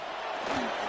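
Stadium crowd in a Madden 26 football game, an Eagles versus Cowboys matchup, roaring as a steady, dense wash of cheering for a moment.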